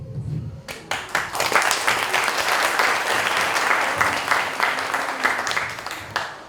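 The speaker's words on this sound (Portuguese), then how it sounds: "essas palmas são para Jesus" Audience applause at a lecture, dense sustained clapping from a crowd that builds quickly and holds steady, with a few voices underneath.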